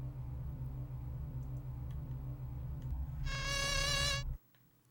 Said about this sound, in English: Very high-pitched, sort of mosquito-esque sound.